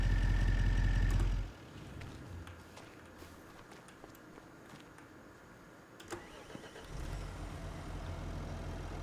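A tractor engine in Farming Simulator 25 rumbles loudly, drops away abruptly to a quiet background with scattered clicks, then returns as a steady idling drone near the end, with no talking.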